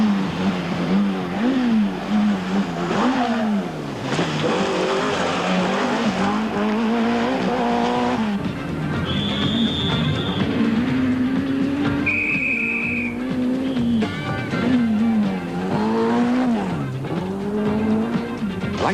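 A rally car on a stage of the 1987 Nissan International Rally roars past near Somerset West, its engine revving hard through repeated gear changes with rising and falling pitch and brief tire squeals, loud and close.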